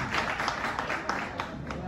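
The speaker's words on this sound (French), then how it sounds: "Méritez un applaudissement." Audience at an association general assembly clapping steadily in a brief burst, moderately loud, with a voice faintly mixed in.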